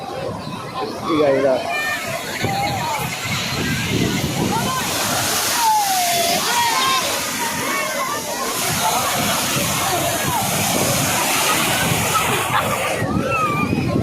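Sea waves wash and churn loudly on Puri beach while voices and excited children's chatter carry over the constant surf.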